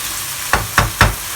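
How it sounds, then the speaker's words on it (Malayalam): Chettinad chicken masala stirred in a frying pan, three distinct scraping strokes about a quarter second apart over a soft background sizzle, close and fairly loud. "ഇതുപോലെ നല്ലോണം മിക്സ് ചെയ്ത് കൊടുക്കണം."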